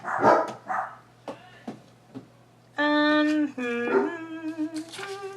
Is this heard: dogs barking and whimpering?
yes